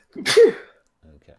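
One sharp, close sneeze breaks out during a tabletop role-playing session, a short explosive burst, followed by a brief quiet spoken word.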